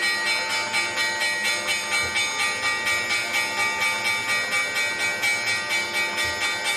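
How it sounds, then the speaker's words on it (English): A stock market opening bell rings in a rapid, even series of metallic strikes that continue without pause for about seven seconds, loud and close. "I'll wait for the bell now"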